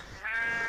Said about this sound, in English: I can hear the sheep